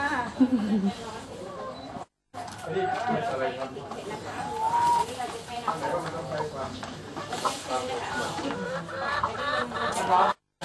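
Chickens on a school farm in Saraburi, Thailand cluck and chatter steadily at moderate distance, mixed under continuous talking.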